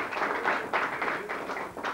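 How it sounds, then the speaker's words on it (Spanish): Studio audience applause on a local cable TV program is a soft, even wash of clapping that keeps going with small surges and stays a little distant. "¡Fuerte el aplauso!"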